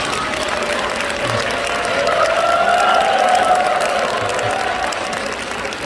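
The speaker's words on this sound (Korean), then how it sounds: "박수 한번 보내주십시오." A church congregation applauds together in a Korean worship service, sustained even clapping that builds slightly and then tapers, with a faint murmur of voices under the applause.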